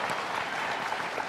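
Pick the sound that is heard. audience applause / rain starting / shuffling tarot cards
audience applause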